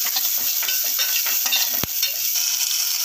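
Curry leaves and spices frying in a pan for a goat trotter curry, a loud, dense sizzle with scraping stirring strokes and one sharp click partway through, and no voices.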